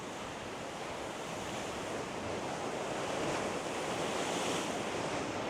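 Steady roar of surf washing onto a beach, continuous and fairly loud, with wind buffeting the microphone throughout.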